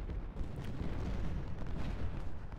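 An artillery salvo in the Civil War strategy video game Ultimate General Civil War at Marye's Heights: rumbling, overlapping booms rolling on continuously at a fairly loud, steady level, with no voices.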